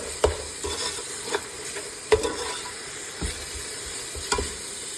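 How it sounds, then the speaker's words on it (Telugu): Green masala paste frying in oil for green chicken biryani, a steady sizzle and hiss broken by a few distinct ladle scrapes and taps at irregular intervals, close and without talk. "వేసుకొని బాగా ఫ్రై చేసుకోవాలన్నమాట, పచ్చి వాసన పోయేదాకా."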